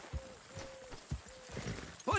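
Hoofbeats from a horse in the video game Red Dead Redemption 2 clip-clop in a steady, close rhythm of dull thuds, with a faint tonal whine and a heavier knock at the end.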